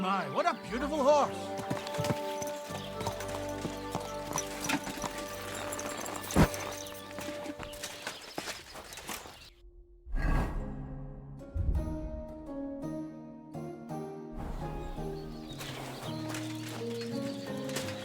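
Horse hooves clip-clop in the video game Kingdom Come: Deliverance II, an irregular patter mixed with game music and tonal background sounds, with a brief near-silent gap partway through.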